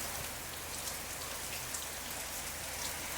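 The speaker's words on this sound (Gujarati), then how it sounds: "વરસાદ પણ ગજબનો આવે" Steady heavy rain pours down in a constant hiss, with scattered drops pattering on a surface nearby; no voices.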